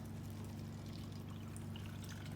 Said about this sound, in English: As you can see, it pours clear.